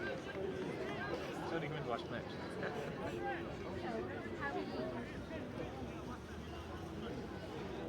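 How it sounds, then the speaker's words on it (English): A growing crowd murmuring and chattering at a college hurling match, a steady babble of many voices with a commentator speaking over it. "Bit of a crowd building all the time here."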